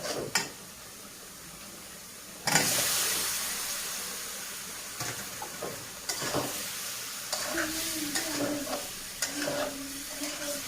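Taro (mankochu) dropped into oil with fried spice paste of coriander and cumin powder, sizzling loudly after a sudden burst, with steady frying hiss and scraping stirs throughout, no talking.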